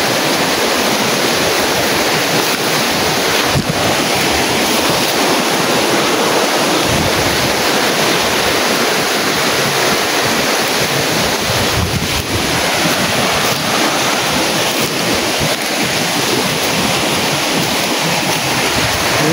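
A river flowing beside a mountain trail, a loud, constant broadband rushing wash of water, with wind buffeting the microphone throughout.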